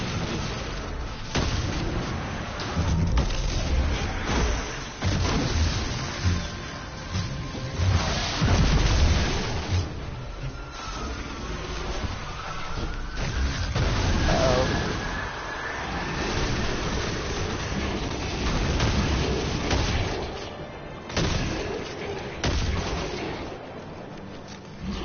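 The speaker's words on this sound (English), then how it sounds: "I like shotguns. They're fun now." Shotgun gunfire: a string of heavy, booming blasts at irregular intervals over a rumbling background, moderately loud.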